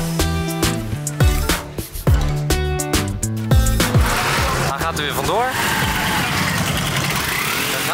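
A tuk tuk engine idles with a rumbling, chugging drone beneath people talking, growing noisier and more continuous toward the end.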